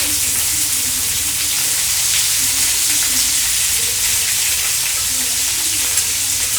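Onions fry in a pan for a spicy chicken fry, with a constant, dense hiss and crackle of hot oil that stays steady and close throughout.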